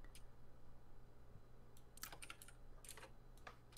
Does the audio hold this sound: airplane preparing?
no